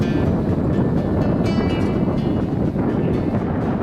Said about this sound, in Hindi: ये वो पॉइंट है जिस पे वो कह रहे हैं कि जी शदीद तेज़ हवा चलती है